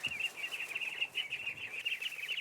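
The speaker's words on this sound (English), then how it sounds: "so Jimmy splashed out on a job lot of chickens, ducks and geese" A mixed flock of farm poultry (chickens, ducks and geese) keeps up a continuous, fairly close chorus of high, fluttering peeps and chirps without pause.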